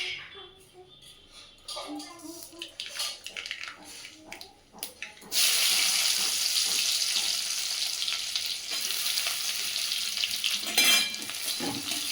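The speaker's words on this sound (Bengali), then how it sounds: "দেখো এইদিকে আমি থোড় ভাজাটা চাপিয়ে দিয়েছি।" Sliced banana stem goes into a hot pan and bursts into a loud, steady hiss of frying that continues without a break, after several seconds of clattering kitchen handling. A voice speaks lightly beneath the sizzle.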